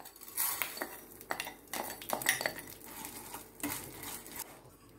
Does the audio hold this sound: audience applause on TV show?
no